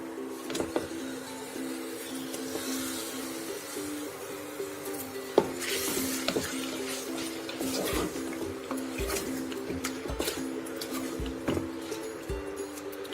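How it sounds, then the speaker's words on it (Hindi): Mutton frying in a pan with garlic-ginger paste and onion: spatula scrapes and occasional utensil clinks over a soft sizzle, backed by a steady mechanical hum throughout. "मटन को लहसुन अदरक और प्याज के साथ अच्छी तरह से फ्राई कर लेंगे।"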